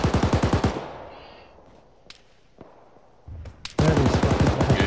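Arma 3 military sim gunfire, a close rapid burst of automatic shots that cuts off into a quiet tail with a few distant single cracks, then another loud close burst starts near the end.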